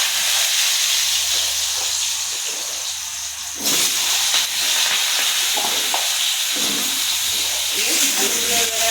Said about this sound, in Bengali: আমার তেলটা গরম হয়ে গেছে। আমি এবার আলুটা ছেড়ে দিচ্ছি